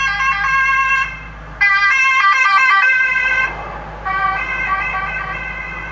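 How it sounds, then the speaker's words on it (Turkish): A police car on a long highway passes with its siren wailing in rapid, repeating two-tone bursts that drop out briefly and return, loud and close over the low drone of traffic. "Ya şöyle işte uzun yolda bir tane daha polis geliyor."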